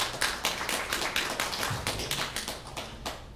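Audience at a Pinal County Republican supervisor candidates' debate claps in a steady patter of handclaps, moderately close and sustained for a few seconds with no talking.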